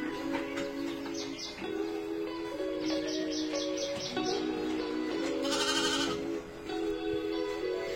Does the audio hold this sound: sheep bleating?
yes